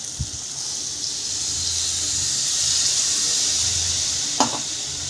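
Water poured into a pan of frying spring onion greens curry, a loud sustained hiss and sizzle that swells and then fades, with a couple of light clinks.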